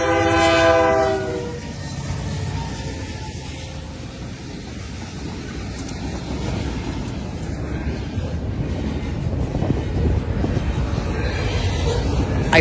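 A freight train hauled by Dash 8 locomotives sounds its horn in a loud opening blast, then rumbles past with rising rail noise and rhythmic clatter of wagons for the rest of the pass.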